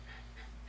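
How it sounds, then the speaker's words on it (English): Dog panting at a disc golf course, a steady rhythmic breathing close by, faint and continuous with no talk over it. "Apologize for the dogs."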